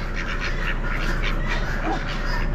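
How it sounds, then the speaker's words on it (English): A flock of drakes at a poultry auction, probably Pekin or Pekin cross, keeps up a busy run of overlapping quacks over continuous background barn noise, with faint voices mixed in. "Sounds like all drakes."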